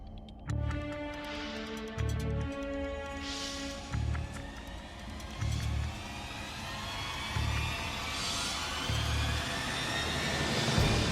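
An aircraft engine drones steadily at a loud level, its pitch sweeping slowly as the tone shifts. Regular low thumping pulses repeat underneath, and no one speaks.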